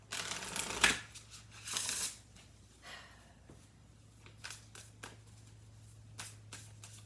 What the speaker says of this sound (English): let me get you a couple of spellcasting oracle cards